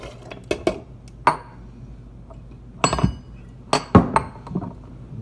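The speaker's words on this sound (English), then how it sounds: "We start with a shaker and some ice." Ice cubes clink and rattle inside a metal cocktail shaker in a sequence of sharp, bright knocks and clatters, close up, with short pauses between bursts.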